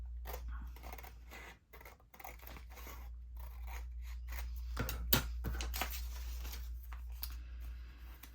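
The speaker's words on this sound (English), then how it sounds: "then I just went ahead and cut it with my scissors" Crisp snipping and crunching sounds of scissors cutting through paper, with scattered short cuts and a louder snip near the middle, over a steady low hum.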